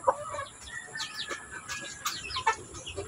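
A mother hen kept apart from the flock clucks softly in short, irregular bursts, with faint chick chirps and chicken sounds close by in a quiet setting.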